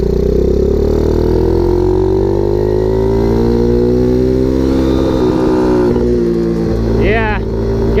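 Pocket bike fitted with an electric turbo and NOS, its small engine revving loud and steady at high pitch, the tone rising slowly then dipping with a brief warble near the end.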